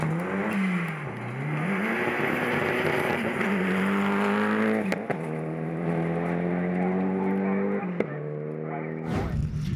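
A Mitsubishi Evo rally car blasts along a gravel forest stage, engine note rising and falling through gear changes with sharp lifts between shifts, loud and close before the car passes by.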